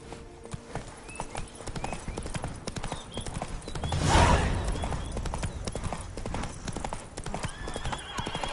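In The Witcher 3, a horse gallops with steady, rapid hoofbeats, and a loud whinny rises midway through the run.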